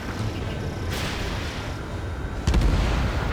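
Missile explosions in the air-combat video game Ace Combat 7, a dense rumbling roar with a burst near one second and a louder, heavier blast at two and a half seconds that keeps booming to the end.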